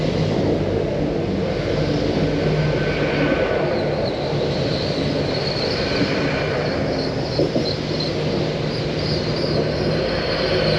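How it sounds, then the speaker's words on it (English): GWR Class 800 bi-mode train, unit 800-014, arriving at Redruth station on a Penzance to Plymouth service: a steady broad rumble of engines and wheels, close and continuous, with a faint higher whine above and no talk. "GWR Class 800 800-014 arriving with the 1150 Penzance to Plymouth working"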